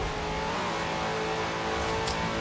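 An HSV GTS held at full throttle in Forza Horizon 4, its engine a steady, loud, continuous roar with no pause across the clip.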